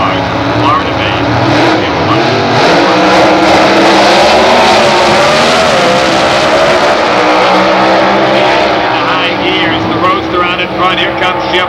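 Supercharged competition-eliminator drag race cars roar loudly and continuously as they run down the strip at a 1994 Commerce drag race, a dense, sustained engine blare with a faint announcer voice beneath.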